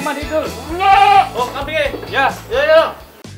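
Saanen dairy goats on a goat farm bleat repeatedly and loudly up close, several wavering calls in quick succession over a rhythmic low thumping in the background.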